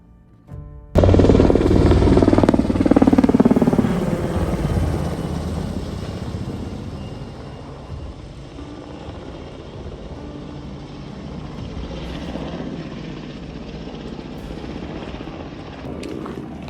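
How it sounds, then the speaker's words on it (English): A big helicopter passing low and very close overhead on the Camino de Santiago. Its deep, loud rotor roar starts abruptly, peaks early, then slowly fades while staying strong. "That's like a fat helicopter."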